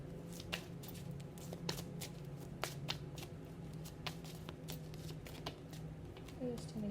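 Tarot cards are shuffled in quick, irregular riffling bursts with sharp snaps and slaps of the deck, close and clear, while a voice talks quietly underneath.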